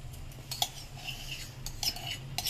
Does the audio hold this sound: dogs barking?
no